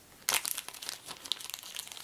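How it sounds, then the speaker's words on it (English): Star Wars: Imperial Assault game cards slide out of crinkly plastic sleeves, a sharp crackling rustle at the start followed by a run of softer, close-up crinkles and scrapes. "be careful when pulling the cards out of these sleeves"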